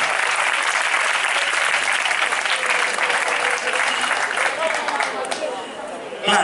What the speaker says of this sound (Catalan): Les dones, un aplaudiment per a elles